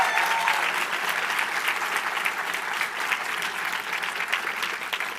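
Audience applause at a CreativeMornings New York talk, steady clapping from a crowd that fills the room evenly and stays loud throughout, with no voices over it.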